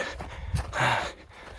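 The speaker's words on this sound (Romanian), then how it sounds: "După cum spuneam, despre gâfâit." Heavy panting from a runner partway through a long weekend run: several close, breathy gasps and puffs in quick succession, rising to one louder exhale in the middle, with no talking.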